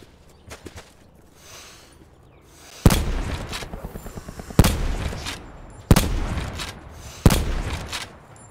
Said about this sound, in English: Someone was shooting at the coast down here